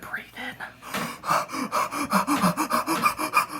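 Heavy, rhythmic panting breaths, close and fairly loud, as a man strains while handling a Makarov pistol during cleaning; gasping inhales and exhales repeat steadily with no talk.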